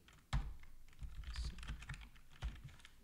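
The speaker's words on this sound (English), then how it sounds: "And you type in" Typing on a computer keyboard, close and faint, with a quick run of irregular key clicks and a couple of sharper taps.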